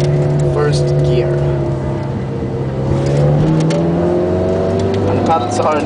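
A Ferrari 430 Scuderia engine pulls hard in first gear, a loud, steady rising drone with strong harmonics heard from inside the cabin, with a voice briefly speaking over it.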